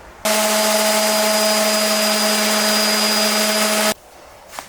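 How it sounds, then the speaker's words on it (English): A loud, steady electric sander whine on window frames runs continuously for several seconds with a constant hum, then cuts off abruptly into quiet. "Today, I'm sanding."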